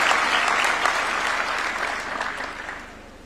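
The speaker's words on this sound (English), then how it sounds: "A round of applause for her." A crowd claps steadily for a few seconds at a State House award ceremony in Nairobi, the applause gradually thinning and fading out.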